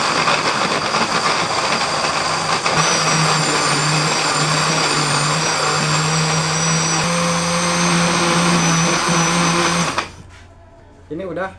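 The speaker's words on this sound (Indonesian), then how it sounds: "Kita siap pasang dan kita siap blender." An electric kitchen blender whirring loudly and continuously as it purees carrot for a carrot cake batter, with a speaking voice over the motor before it cuts off near the end.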